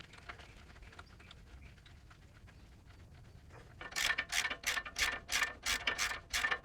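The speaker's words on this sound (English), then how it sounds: "we're going to tighten this bolt, and as we do that, it's going to pull this tensioning pulley down" A socket wrench on an extension ratchets a 14mm tensioner bolt on a Toyota Land Cruiser drive belt, FZJ70/FZJ80/FZJ105 type. After a quiet lead-in, about eight quick bursts of clicking follow in steady rhythm, close and crisp.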